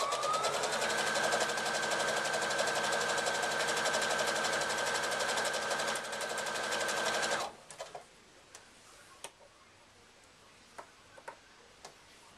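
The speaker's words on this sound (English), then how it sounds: "sew straight down the edge" Straight stitching runs down a fabric edge on a reversible handbag, the sewing machine whirring steadily and loudly for several seconds before stopping, followed by faint scattered clicks and handling noises.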